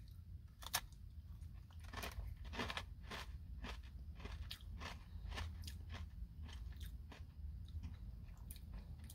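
Close, crisp crunching and chewing of a Nature Valley Smoky BBQ nut crunch bar, with repeated sharp bites and steady mastication over about nine seconds and no talking.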